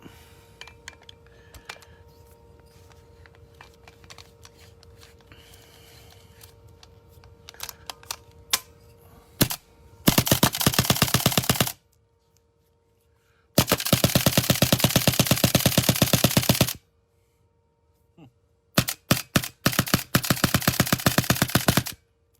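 An Autococker paintball marker fires test shots after a hinge-frame installation. It gives three loud, rapid strings of sharp pops separated by silent gaps, preceded by quieter clicks and handling noises.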